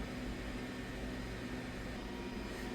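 A 3D printer printing the floor section of a mini library model, a steady faint mechanical whir and hum with a low tonal drone, continuous and unchanging throughout.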